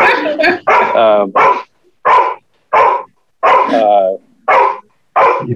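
Dogs bark loudly and close by in a run of short, sharp bursts, about a dozen barks and yelps with brief pauses between them.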